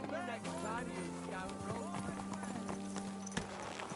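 Horse hooves clip-clopping in the video game Kingdom Come: Deliverance II, steady footfalls under background music and sustained tones, with a voice talking over them.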